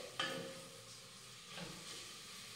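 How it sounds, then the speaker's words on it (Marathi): Onion and whole spices sautéing in a pan for aloo matar pulao: a quiet, steady sizzle broken by a couple of spatula scrapes and stirs. "आणि हा कांदा हलक्या सोनेरी रंगावर छान असा परतून घेऊयात"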